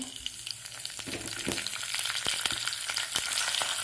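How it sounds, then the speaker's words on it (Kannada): Mustard seeds, cumin and curry leaves sizzle and crackle steadily in hot oil for a Kannada-style raw mango gojju, with scattered sharp pops of seeds bursting over a continuous close frying hiss. "ಅರ್ಧ ಸ್ಪೂನ್ ಸಾಸಿವೆ ಹಾಕ್ತಾ ಇದ್ದೀನಿ ಅರ್ಧ ಸ್ಪೂನ್ ಜೀರಿಗೆ ಹಾಕ್ತಾ ಇದ್ದೀನಿ ಕರಿಬೇವು"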